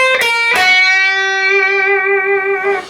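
Electric guitar lick with a few quick picked notes, ending in a held half-step bent note with vibrato that rings out clearly and alone for a couple of seconds.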